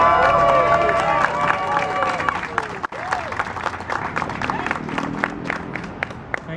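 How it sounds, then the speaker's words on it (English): Audience applause at an outdoor rally to save mailboxes, a steady wash of clapping with crowd noise and scattered cheering, moderately loud, with voices and whistles mixed in. "I think we should give him a big round of applause."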